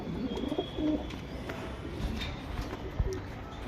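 Pigeons of an old lineage coo softly in a loft, low-pitched calls under faint background noise and a brief clatter near the end.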